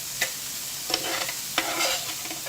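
Peppers and vegetables fry in a pan for a potato breakfast, with a loud close sizzle broken by three distinct scraping strokes of a spoon stirring them.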